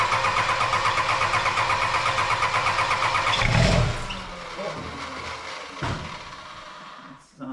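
A diesel engine cranks and catches, a rapid rhythmic chugging that swells into a loud burst before settling into a rougher, uneven idle and then cutting off near the end.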